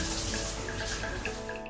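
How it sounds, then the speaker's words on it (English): Steady wet bubbling and sizzling of roast pork cooking, continuous and close with no talking. "Bubbling very well."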